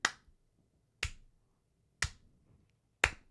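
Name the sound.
voice imitating someone clapping a couple times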